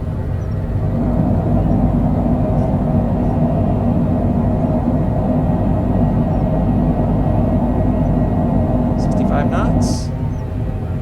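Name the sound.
aircraft thrust reversers roaring during landing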